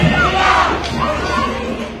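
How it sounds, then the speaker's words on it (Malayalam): Students in a celebration procession in Kozhikode shout and cheer together, a loud close crowd roar of voices rising and falling over the whole stretch. "മാനാഞ്ചിറ ചുറ്റിയെത്തിയ ഘോഷയാത്രയിൽ പാട്ടും ആരവങ്ങളുമായി വിദ്യാർത്ഥികൾ അണിനിരന്നു."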